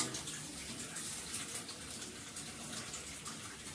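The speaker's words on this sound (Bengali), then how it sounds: "সাবান দিয়ে ধুয়ে দিলাম।" Tap water runs steadily into a kitchen sink while something is washed with soap, a continuous soft gushing splash heard close and fairly quiet, with no voices.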